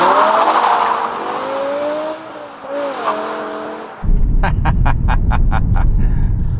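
A BMW E60 M5 pushed sideways, with engine drone and harmonic whine through the first part, then an abrupt shift to broadband tire roar and a series of rapid, evenly spaced squeal bursts, loud and close.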